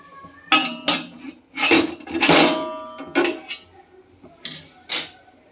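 A metal plate of dhokla batter clanks and scrapes against a steamer pot several times, sharp ringing knocks spaced irregularly with quiet gaps between.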